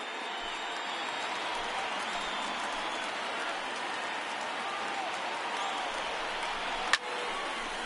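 A large baseball crowd of about 22,000 at a 2019 Pittsburgh Pirates versus Cincinnati Reds game makes a sustained, broad roar of cheering and clapping, with a single sharp crack near the end.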